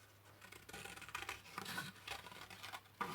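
Small scissors fussy cutting a paper snowman shape, a quiet close-up series of irregular crisp snips and paper scrapes, with short pauses between cuts and a sharper snip near the end.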